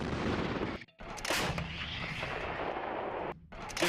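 An advanced towed artillery gun of the Indian Army fires with loud, close, booming blasts, the second following a few seconds after the first, and each is followed by a rumbling roar that lingers.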